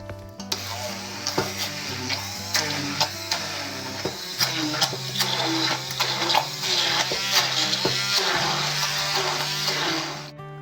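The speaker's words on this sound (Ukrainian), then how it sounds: "збиваємо в блендері до однорідної маси" An electric blender whirs steadily close by, its motor pitch shifting as it churns a thick cheese filling thickened with cornstarch, with clattering ticks throughout.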